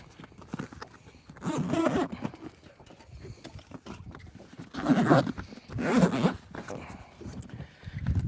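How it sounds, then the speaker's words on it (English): Several long, rasping pulls of a heavy-duty zipper, coarse and fairly close, with quieter rustling and shuffling between them. "That's the sound of a super heavy duty zipper."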